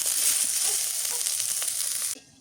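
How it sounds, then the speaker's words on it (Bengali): Chopped onion fries crisp in hot oil after small river fish has been fried, giving a loud, close, continuous sizzle that cuts off abruptly near the end. "এখন একটু পেঁয়াজ কুচি দিয়ে দিই, তাহলে পেঁয়াজটা বেরেস্তা হয়ে যাবে, অনেক সুন্দর লাগবে খেতে, কড়কড়া করে ভাজি হবে।"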